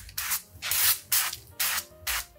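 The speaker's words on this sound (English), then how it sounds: "I'm gonna give these a spray on the top," Cooking oil is sprayed over the tops of salmon fillets before baking in five short, hissing bursts at a steady pace, each about a quarter second long, heard close and clear without talk.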